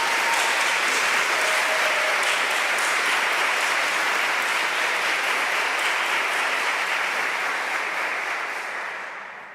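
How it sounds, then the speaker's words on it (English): A crowd claps steadily and loudly for several seconds, the applause fading out at the end. "let's give her a round of applause"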